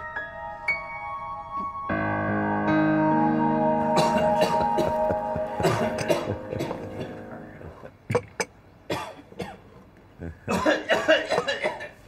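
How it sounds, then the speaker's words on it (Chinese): A man coughs repeatedly in a period wartime drama, several sharp, harsh bursts breaking out in quick clusters after a held musical tone, close and fairly loud. "我看你这咳嗽也有日子了吧？"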